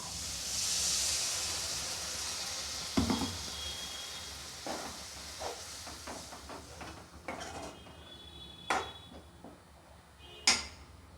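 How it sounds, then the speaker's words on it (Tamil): Tamarind water poured into hot oil for a vattal kuzhambu, bursting into a loud hiss that slowly fades, followed by scattered clinks and light sizzles of stirring in the pan. "இப்போ நம்ம அந்த புளி கரைச்சலை வந்து ஊற்றிக்கும்"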